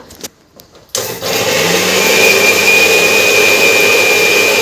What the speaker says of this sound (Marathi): हे सर्व मिश्रण आता मी मिक्सरमधून छान प्रकारे बारीक करून घेणार आहे